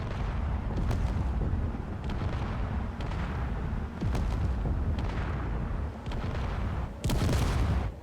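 Turret gunfire in the video game Space Engineers, a steady run of heavy booming shots with sharper cracks every second or so, loud and continuous with no voice over it.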